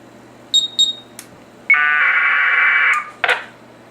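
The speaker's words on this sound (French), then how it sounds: "j'ai un piezo buzzer" A few short high-pitched electronic beeps from a piezo buzzer on a flight controller, then a long, loud, steady buzzing tone lasting over a second, ending with a brief sharp burst.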